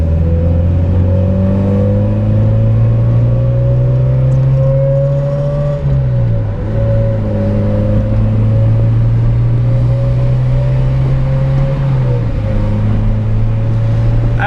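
A supercharged Honda Civic EK Type R engine revs loud and close with a steady buzzing drone, its pitch stepping and wavering twice as the throttle changes, with no voices over it.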